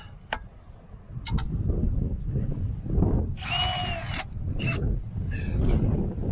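A power drill whines in a few short bursts, the longest about a second, over a low background rumble and faint ticking.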